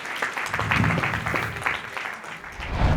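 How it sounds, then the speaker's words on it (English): Audience applause for panel speakers coming up at a conference, a dense sustained patter of clapping from a crowd across the whole stretch. "A round of applause for them as they come up"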